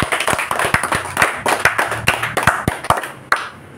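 A small audience at a religious talk claps in sharp, uneven individual hand claps, fairly close and loud, thinning out toward a final clap.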